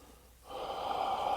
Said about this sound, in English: really breathing deeply and fully through the practice